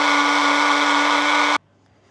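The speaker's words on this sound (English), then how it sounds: "So I'm just gonna give that a little blitz with the blender." A blender blitzes an anti-inflammatory salad dressing with warm water, a loud steady whirring motor that runs alone for about a second and a half, then cuts off abruptly into near silence.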